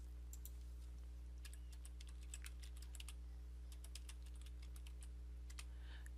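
Rapid, irregular keystrokes on a computer keyboard as a user ID is typed, fairly faint and close, over a steady low electrical hum with no talking.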